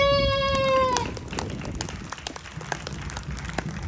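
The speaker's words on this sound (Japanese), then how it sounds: "大きな拍手をお願いします。 オンキーボードパクヨンセ" Audience applause at a live band concert greeting a band member, a steady crowd of clapping that follows a fading sustained musical tone and continues at moderate volume.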